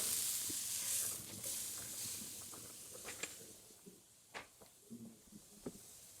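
A steak sizzles in a pan while cooking, a soft hissing wash that fades over time, broken by faint pops and crackles in the later seconds.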